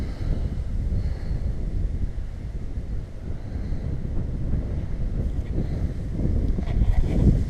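Gusty wind buffets a microphone outdoors across a North Wales landscape, a loud continuous low rumble that swells and eases, with no talking.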